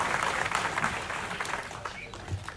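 An audience claps and cheers after a speech at a People Power movement gathering, a dense burst of applause that thins out toward the end, with voices mixed in.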